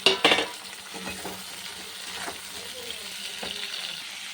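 Potatoes and pointed gourd are stirred in a frying pan, with a few sharp clatters at the start followed by a soft continuing sizzle and occasional scraping knocks.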